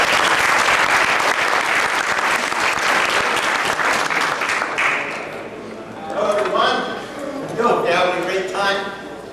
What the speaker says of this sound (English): Please, everybody, give him a round of applause.